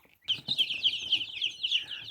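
Young chicks raised on starter feed chirp in a continuous high, bright chorus of peeps, with a few low clucks and rustles underneath, fairly close and steady throughout.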